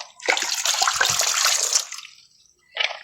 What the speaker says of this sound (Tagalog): nilalagyan ni Ocean ng tubig